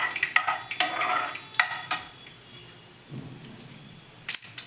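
Mustard seeds dropped into hot oil with chana dal and urad dal, giving crackling pops and a stir with a spatula against the pan, sharp bursts early then quieter sizzling.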